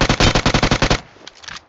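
Rapid bursts of automatic gunfire from a shooter video game, about a dozen loud, evenly spaced shots over a second, then fainter scattered distant shots.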